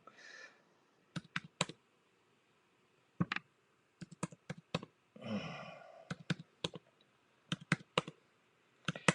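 Quick bursts of keystrokes on a computer keyboard as answers are entered in a math drill game, clustered taps in short rapid runs separated by pauses, close and fairly quiet, with a brief sigh-like breath midway.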